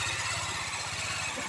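A motorcycle engine idles steadily with a low, regular throb, close and continuous, at a ritual festival outing in Guhagar.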